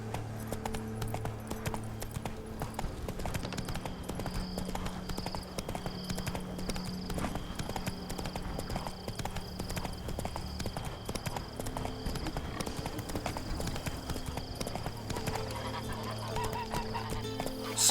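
Steady hoof clip-clop of the horse Roach in The Witcher 3, a continuous rhythmic trot running throughout, close and even, with a faint musical drone beneath and no talk.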